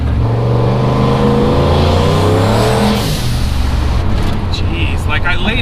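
Turbocharged LS-swapped S-10 truck accelerates hard, loud and close, its rising engine note building boost as the wheels spin, with harmonics climbing and a burst of hiss and tire noise near the end, wind rushing throughout.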